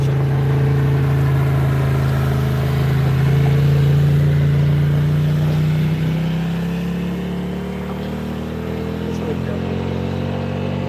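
A passing vehicle's engine gives a steady, loud mid-pitched hum that swells slightly and then eases away over several seconds, running under people talking nearby.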